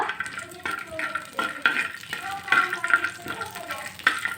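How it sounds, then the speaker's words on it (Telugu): Onions fry in a pan with a soft, continuous sizzle, broken by frequent small scrapes and clinks of stirring, nearby and moderately quiet. "ఆనియన్ మూడు అయితే బాగా ఫ్రై చేసుకోవాలండి"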